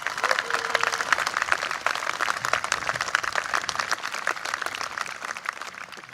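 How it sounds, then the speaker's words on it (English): Dense, steady applause from a sizable college commencement audience, many hands clapping continuously at an even level for the whole stretch. "Everybody give her a round of applause"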